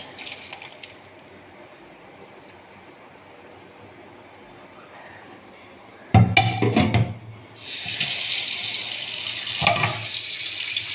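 Homemade mango chutney poured from a pan in a home kitchen, a sudden burst of thick wet pouring and scraping followed by a steady louder rush of liquid and clinking utensil noise, no talk.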